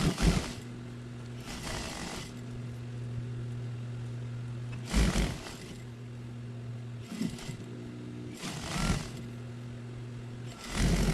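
A sewing machine stitches a double-size bedsheet, its steady motor hum running in long stretches broken by short pauses and bursts of handling noise, fairly close and with no talking.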